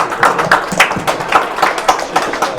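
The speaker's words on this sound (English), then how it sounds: "So can you give a round of applause to Bill Walsh, everybody, please?" A modest audience at a business keynote in Henderson claps in a fairly loose, uneven patter, individual hand claps standing out in quick pulses rather than a thick roar.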